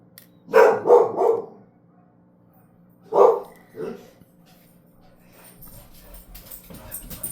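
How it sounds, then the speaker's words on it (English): Dogs barking indoors, reacting to another dog outside. A quick run of three loud barks comes first, then two more separate barks after a pause, followed by low rustling. "There's another dog barking outside, so of course mine are gonna go nuts now"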